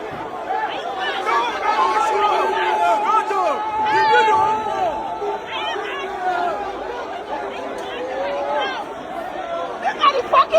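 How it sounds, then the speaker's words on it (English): Dense chatter from a large protest crowd, many voices overlapping at close range in a steady, loud babble with a few louder shouts toward the end. "Look at the fucking crowd."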